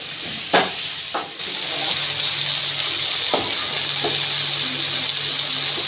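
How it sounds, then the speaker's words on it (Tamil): Onion and green chilli sauté in a pan with a steady hissing sizzle that fills the background. A few sharp stirring scrapes and knocks cut through it up close. "வெங்காயம் பச்சை மிளகா இது வச்சுக்கலாம் நல்லா வதக்கணும்"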